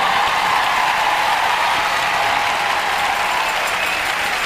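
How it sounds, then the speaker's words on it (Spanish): Sustained applause from a large audience fills a church women's congress, a dense, even wash of clapping that holds steady throughout with no voices on top. "Denle un aplauso a este Señor misericordioso."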